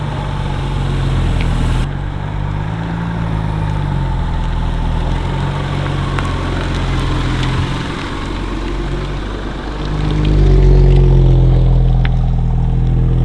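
An Audi S4 B9 idles loudly with a deep, steady exhaust rumble, which swells into a brief rev near the end.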